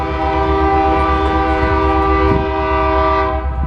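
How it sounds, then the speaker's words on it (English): A train rolls past up close, its horn blaring in steady sustained tones throughout amid the rumble of rail cars, loud and continuous. "Train."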